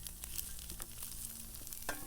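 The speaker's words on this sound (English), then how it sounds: "Listen to that sizzle." Dinosaur kale sizzles in a greased pan, a steady crackling fry with a few stirring scrapes, fairly quiet and with no talk over it.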